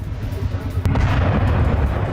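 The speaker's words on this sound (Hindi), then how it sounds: "आवाजें आप सुनिए धमाकों" Distant explosions from strikes in southern Iran, a sharp boom followed by a rumbling roar under continuous noisy background.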